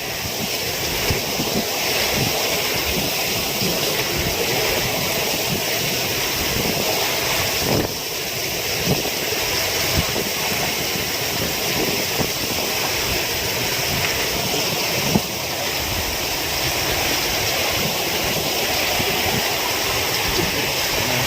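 A loud, constant roar of surf and rushing ocean water during a typhoon in Surigao, Philippines, fills the clip, steady throughout with wind buffeting the microphone and no voices.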